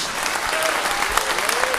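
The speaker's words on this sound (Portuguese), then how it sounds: "Aplausos a Jesus." A church congregation applauds in a dense, sustained burst of clapping that fills the whole moment, loud and close.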